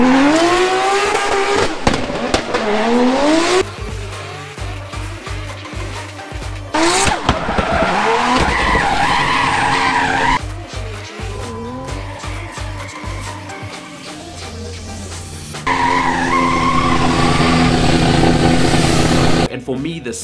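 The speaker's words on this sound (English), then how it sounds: "Although the car is very loud." A Lexus RC F drifts at high revs with long, loud tire squeals and skidding, engine roaring and bouncing off the limiter in bursts, recorded close up, with speech over parts of it.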